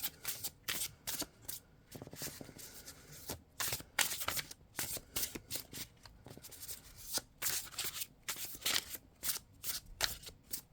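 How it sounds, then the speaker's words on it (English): A tarot deck is shuffled quickly by hand, a quiet series of rapid riffling bursts separated by short pauses, close and alone without speech. "I'm doing like the quicker shuffle method"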